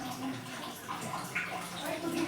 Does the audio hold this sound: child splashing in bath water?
yes